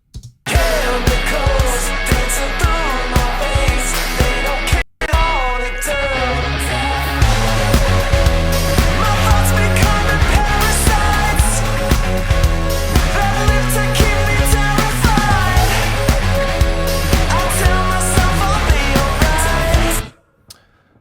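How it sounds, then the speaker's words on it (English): Heavy distorted electric guitars drive a loud cover, playing dense sustained riffs. One brief cut comes near the five-second mark, then the riffs run without a break until they stop abruptly near the end. "All right, so that'll do it for the heavy guitars."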